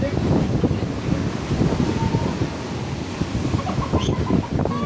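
Large ocean waves driven by typhoon Kristine surge and crash continuously against a fence, with heavy rumbling surf and gusty wind buffeting the microphone throughout.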